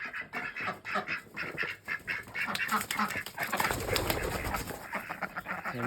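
A small flock of ducks at a wintry poultry yard quacks repeatedly at feeding time, calls overlapping and growing denser toward the end, close and moderately loud with no talk over it.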